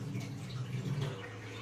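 Soaking water drains off rice for a biryani, a steady broadband pour of running water that holds level and fairly close throughout, with no talking.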